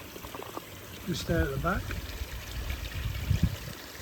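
Garden koi pond shower water trickling and splashing steadily at low level, with someone talking over it and brief louder splashes near the end.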